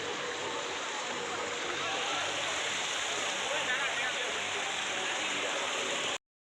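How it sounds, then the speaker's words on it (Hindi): A small waterfall of cold flowing water rushes in a steady, dense broadband wash, close and continuous, then cuts off abruptly at the end. "देखो छोटा छोटा वाटरफॉल है यहाँ पे।"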